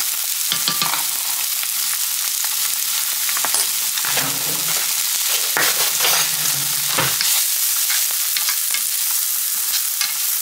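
Garlic and onion dropped into hot oil, a loud, close, steady crackling sizzle with a few spatula scrapes and a brief bubbling surge partway through, no talking.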